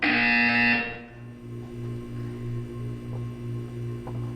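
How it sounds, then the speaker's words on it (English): A loud harsh electronic buzzer in Portal 2 blares for about a second, then cuts off, leaving a low pulsing hum. "When you hear the buzzer, look down at the floor."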